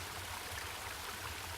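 Steady, soft babbling of a small brook in a wooded spot in the video game Home, a continuous low rushing trickle with no talk, quiet and even throughout.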